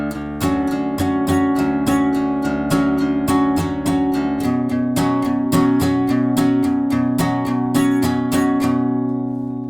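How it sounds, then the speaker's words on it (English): Acoustic guitar strumming the first two chords of a song, a fast steady train of bright strums that shifts chord about halfway through, loud and close with no talking. "So for the first 2 chords, it'll sound like this."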